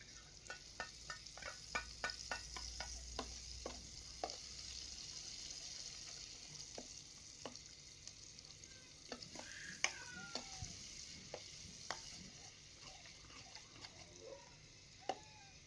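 Spices crackle softly in hot oil on a clay stove, a steady low sizzle dotted with quick pops and a few utensil clicks. No one speaks.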